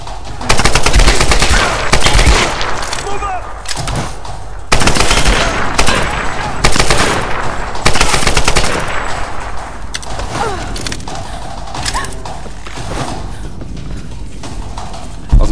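Gunfire in Tomb Raider 2013, loud rapid bursts of automatic shots and single cracks close by, repeating in clusters over busy game noise.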